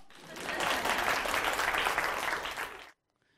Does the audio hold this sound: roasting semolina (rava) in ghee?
no